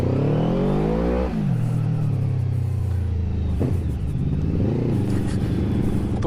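An 800cc V-twin naked motorcycle pulls hard in first gear, its engine rumbling loudly and climbing in pitch through a long rev, then dipping and rising again on the next pulls, close and continuous with no talk.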